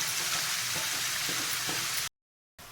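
Tomatoes fry in oil for a spinach and carrot chutney, a steady close sizzle with faint stirring knocks, then a brief cut to silence before the frying returns.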